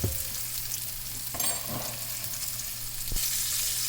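Striped bass fries in ghee in a pan, giving a steady gentle sizzle with brief louder crackles and stirring scrapes, close and without talk.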